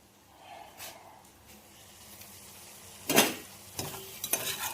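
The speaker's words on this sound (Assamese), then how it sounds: "বৰ ভাজি আছোঁ আজি, অলপ বৰ ভাজি বনাইছোঁ।" Ivy gourd fritters with raw banana and onion fry in a pan, giving a faint, steady sizzle broken by a few louder stirring scrapes.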